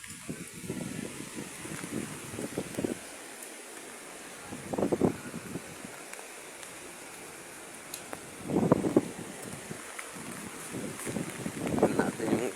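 Strong typhoon wind during Typhoon Kristine roars steadily, surging into louder gusty bursts every few seconds over a constant broadband rush.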